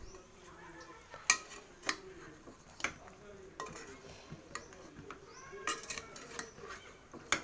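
A spoon stirs and scrapes chicken curry ingredients (mint, cut green chillies, ground masala) in a metal pot, making sharp repeated clinks and scrapes close by over a soft background.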